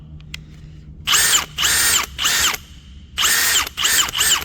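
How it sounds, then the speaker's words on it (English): A Milwaukee Gen 4 cordless hammer drill runs in six short bursts, each with a high whine rising to speed and cutting off, close and loud between quiet pauses. "This is a great looking hammer drill"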